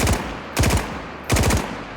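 Rifle fire from an AKM-type weapon with an AKM magazine in the video game DayZ, three short, loud automatic bursts of several rapid shots each, evenly spaced and heard alone.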